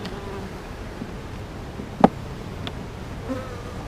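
Honeybees buzzing around a struggling beehive on a hot, humid day, a soft steady hum close by with one sharp brief tap near the middle.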